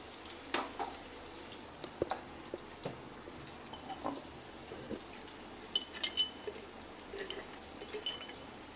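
Potatoes frying in a pan with a couple of pinches of turmeric powder, a soft steady sizzle broken by scattered light clinks and stirring taps, fairly faint and close.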